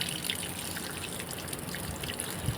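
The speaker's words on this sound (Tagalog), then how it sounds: "may nasirit ito malakas pa rin ang kanyang tubig" Water hisses and sprays steadily from a leaking pipe on a water pump, a continuous gushing noise, fairly faint, with small splashes and drips mixed in.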